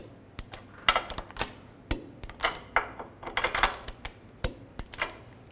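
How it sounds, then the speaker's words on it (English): A torque wrench tightens the lower ball joint nuts on a 2006-2010 Volkswagen Jetta during a front CV axle replacement, giving a close, irregular series of sharp metallic ratchet clicks. "Now torque these nuts to 44 foot-pounds."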